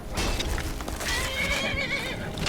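Horses in the video game Skyrim whinny loudly in a long, quavering neigh, with clip-clopping hooves and steady game ambience beneath.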